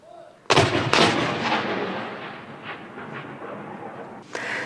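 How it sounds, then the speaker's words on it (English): A heavy artillery gun salute fired by the armed forces as a 96-round tribute on a monarch's death: two loud booming blasts close together, each trailing into a long rolling echo, then a third boom starting near the end. "the armed forces marked her death with a 96-round gun salute"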